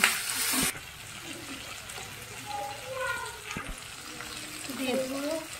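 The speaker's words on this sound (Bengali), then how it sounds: "রসুন, আদা আর কাঁচা লঙ্কা আর এই দিয়ে আবার একটু হালকা করে ভেজে নেওয়া হচ্ছে" Garlic, ginger and green chilli frying lightly with onion and tomato in a home kitchen pan, a steady soft sizzle after a brief louder burst, with faint clinks and background voices.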